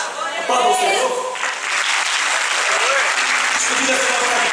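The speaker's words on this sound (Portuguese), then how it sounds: "Aplauda o Senhor." Congregation applauding loudly in a church, dense sustained clapping filling the room, with voices mixed in underneath.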